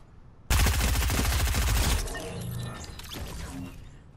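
Gunfire in the video game Fortnite: a loud, rapid burst of shots lasting about a second and a half, followed by fading echoes and softer game sounds.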